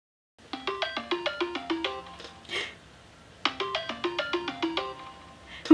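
A phone rings with an incoming call: a bright melodic ringtone plays two bursts of quick rising notes, fairly close, with a short pause and a rustle between them.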